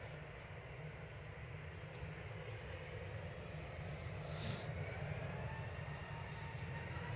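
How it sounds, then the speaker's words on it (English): A Ryanair Boeing 737-800 bound for Barcelona at Manchester Airport gives a steady, continuous jet roar with a deep rumble, holding even and fairly distant throughout with a slight swell midway. "up here is Ryanair to Barcelona, 737-800 EIDLW flight 7542"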